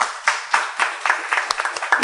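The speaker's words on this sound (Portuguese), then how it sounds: "uma salva de palmas" Audience applause at a national prosecutors' meeting in Brazil, a thin scattering of near claps in an uneven rhythm that runs throughout.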